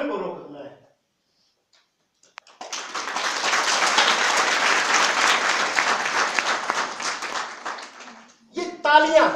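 An audience claps together at a patriotic event honouring soldiers and families who lost sons, a loud sustained wave of applause lasting several seconds after brief speech, with a voice returning at the end.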